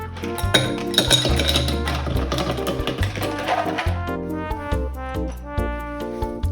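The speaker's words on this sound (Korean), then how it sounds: "그리고 얼음과 미리 계량해둔 우유를 넣어주세요." Ice and milk going into a glass for brown sugar milk tea, bright repeated clinks of ice against glass with some pouring, fairly close.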